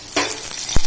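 Garlic dropped into smoking-hot oil for a dal bursts into a loud, close sizzle that keeps hissing steadily, with two brief thumps of the pan or spoon near the end.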